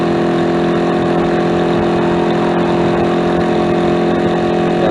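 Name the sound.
small motorcycle engine running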